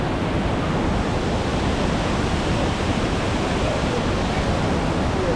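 The biggest waterfall at Cat Village in Sapa, Vietnam roars as a steady, dense wash of falling water, loud and unbroken with no pauses or rhythm and no voices over it.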